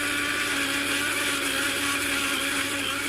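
A blender jug whirring steadily as spinach and water are blended, a continuous dense motor roar held at constant loudness throughout with no voices.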